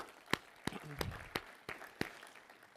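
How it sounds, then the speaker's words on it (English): A handful of sharp, scattered claps ring out at uneven intervals as an audience at a university strategy talk thanks event volunteers, with a voice briefly talking between them. "So just a quick round of applause for all of those people."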